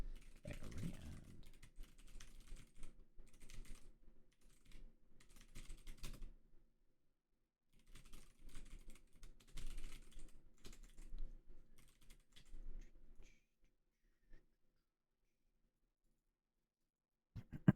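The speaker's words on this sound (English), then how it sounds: "How loud is my keyboard when I type?" Someone types on a computer keyboard in quick, irregular bursts of soft clicks, close but fairly quiet. Brief pauses break the typing, and the clip ends in near silence.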